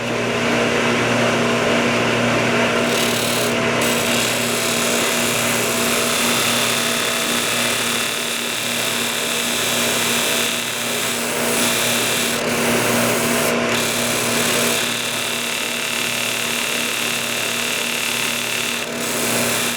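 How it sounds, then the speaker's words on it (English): Wood being sanded on a Shopsmith power tool with a dust collector, a steady loud whirring and abrasive hiss that runs unbroken for about twenty seconds with a constant motor hum underneath and no speech. "Sanding!"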